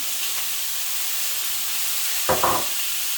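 Vegetables stir-frying in a hot pan with spring onion, sesame oil and Maggi give a steady, bright sizzle and hiss, with a short clatter of stirring near the end and no talk.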